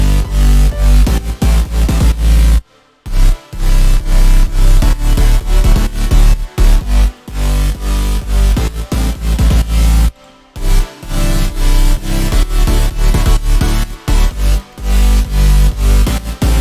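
Layered future house bass with a subwoofer underneath, produced in FL Studio, plays as loud, bass-heavy electronic music with a pumping rhythm. It briefly drops out twice before kicking back in.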